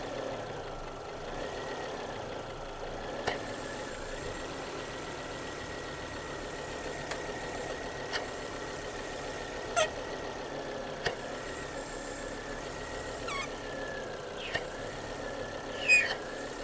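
Volvo C30 engine idling steadily during a PCV glove test, a low even hum broken by occasional faint ticks and squeaks, with no talk.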